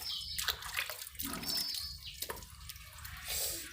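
Water is splashed and dribbled over a chicken being bathed, with irregular drips and short pours close by and no talking.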